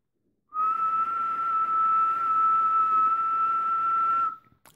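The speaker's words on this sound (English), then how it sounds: "So you have to whistle at a specific tone." A single sustained whistle held at one steady pitch for about four seconds, clear and close, then cut off, whistled to trigger an Arduino puzzle box.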